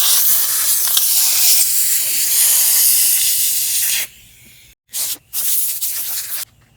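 Compressed air hisses loudly and steadily as it blows dust out of a dinghy transom, then cuts off and returns in two shorter sharp blasts.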